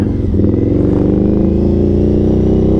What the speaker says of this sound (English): There's more bikes up ahead. Harleys.